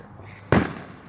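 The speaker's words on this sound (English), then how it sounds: "So you did see a few fireworks." A single sharp firecracker-style burst cracks out midway over a low steady outdoor background, followed by a brief decaying rumble.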